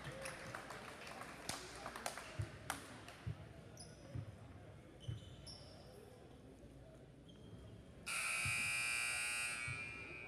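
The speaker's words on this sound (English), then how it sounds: "The buzzer sounds," A loud electronic buzzer blares at a high-school boys' varsity basketball game, holding steady for about two seconds at the end, after scattered ball bounces, sneaker squeaks and crowd chatter in the gym.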